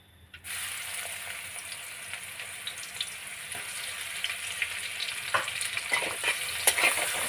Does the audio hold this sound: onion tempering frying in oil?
yes